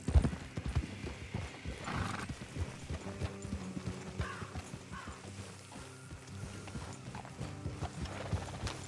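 Horses trotting and whinnying in Red Dead Redemption 2, rhythmic hoof clip-clops on a trail with occasional neighs, moderately quiet under faint game ambience.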